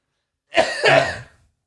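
A single throaty cough or throat-clear, close and fairly loud, straight into a microphone during a podcast, in two quick bursts and then silence.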